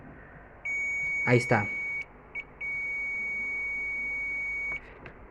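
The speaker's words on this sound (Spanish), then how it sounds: "nuestro multímetro emite una señal de voltaje y al regresar emite un pitido" A multimeter continuity test emits a steady high-pitched electronic beep twice, a short tone and then a longer one, with a brief spoken remark during the first beep.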